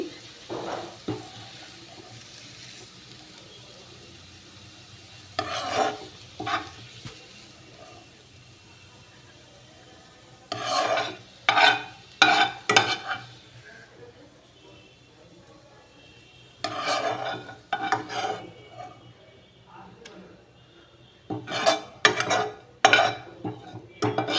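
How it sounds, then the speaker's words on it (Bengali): Fried banana stem is lifted from a pan with a ladle, giving several separate bursts of metal scraping and clattering, spaced out by stretches of near quiet with no speech. "আমি একটা হাতার সাহায্যে তুলে নিচ্ছি"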